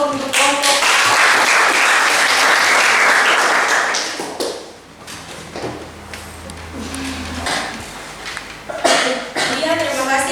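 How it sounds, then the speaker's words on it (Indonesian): A classroom audience claps for a presenting student group, a dense burst of applause in the opening seconds that thins out, then another short round of clapping near the end, with some talk and room noise between. "Kita bikin aplaus untuk kelompok."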